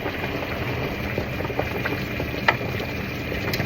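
Beef short ribs in red wine simmer gently in a pot over reduced heat, a steady soft bubbling with occasional small pops, close and unaccompanied by talk.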